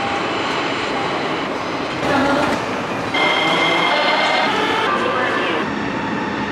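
A metro train in Bulgaria rumbles along steadily with a loud, continuous roar and rattle heard from inside the carriage, with faint voices in the background.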